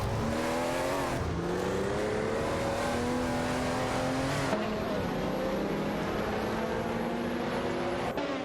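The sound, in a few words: race cars battling, from a racing video game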